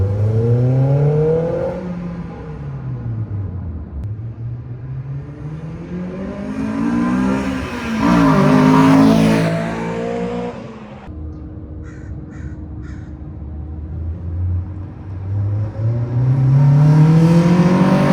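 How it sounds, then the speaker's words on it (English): A Honda S2000 fitted with a CompTech intake revs hard, its engine climbing in pitch through repeated accelerations into a sharp high-rpm VTEC wail, then dropping and rising again, loud and close with no talk. "I gotta hear that VTEC"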